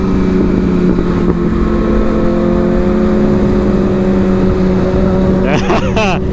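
Kawasaki ZX-10R sport bike engine roaring steadily and loud with wind noise, pitch climbing in a sweep near the end as it accelerates hard into a wheelie.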